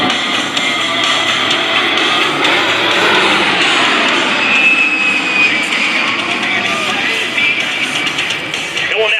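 An A-10 Thunderbolt II jet roars through an attack pass at a Baltimore air show, a loud sustained engine whine and rumble that swells and fades, with a voice talking under it.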